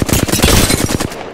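Rapid automatic gunfire from the video game Apex Legends, a dense burst of loud, close shots in quick rhythm lasting over a second before cutting off.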